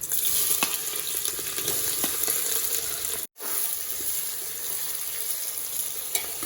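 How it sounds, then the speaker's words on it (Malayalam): Cardamom and cloves frying in oil inside a pressure cooker for chicken biryani, a steady loud sizzle with scattered small pops and stirring, broken by one brief cutout midway. "ഒന്ന് പൊട്ടട്ടെ, അതൊന്ന് ആ ഏലക്കായൊക്കെ ഒന്ന് പൊട്ടും"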